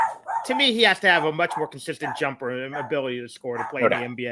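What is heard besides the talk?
dog barking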